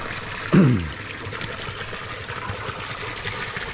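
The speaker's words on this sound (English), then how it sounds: "Oh, we got lots of water" Water gushes from an unclogged garden water supply line, a steady close splashing flow that starts with a brief louder burst and then continues evenly.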